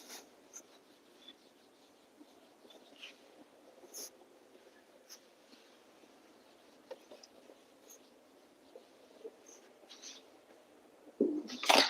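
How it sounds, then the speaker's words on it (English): Pen scratching on paper while a maths question is written down, soft irregular strokes and taps at close range with no talk, then a louder rustle or handling noise at the end. "Now I am writing down the next question"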